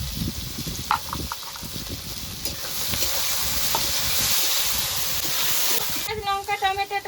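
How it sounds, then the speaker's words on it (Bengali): Chopped onion, chili and tomato frying for ghugni, a steady close sizzle with stirring scrapes throughout, and a voice speaking briefly near the end. "এখন নেড়ে চেড়ে ভালো করে লাল লাল করে একটু ভেজে নেবো"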